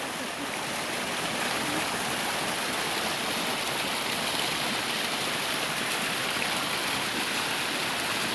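Steady roar of a waterfall heard close by, a dense, unbroken rush of falling water filling the whole stretch at constant loudness.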